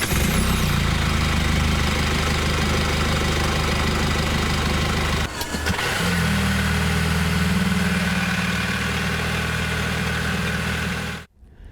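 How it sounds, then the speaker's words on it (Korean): A hybrid car engine running steadily with a loud, constant droning hum, briefly dipping midway before continuing, then cutting off abruptly at the end. "하이브리드 차량이 디젤 모델보다 오히려 소음이 크고 실내에서도 상당한 소음이 들립니다"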